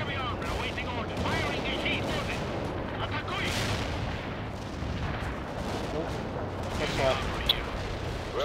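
Tank cannon fire and battle explosions from the video game World in Conflict, a dense, continuous roar of booms and gunfire with a sharper blast near the end, with speech mixed underneath.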